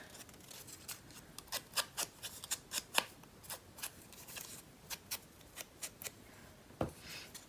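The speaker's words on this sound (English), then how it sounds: "And this one I think I'll cut since I tore that one." Scissors snipping paper for a farmhouse papercraft project, a run of short crisp cuts in an uneven rhythm, close and fairly quiet with no talk.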